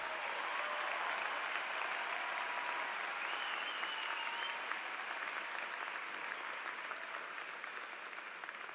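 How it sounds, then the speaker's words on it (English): Sustained applause from a large commencement crowd honours the graduating class. It is a dense, even roar of clapping that holds steady for about nine seconds and fades slightly toward the end, with no speech over it. "Give them a round of applause to the class."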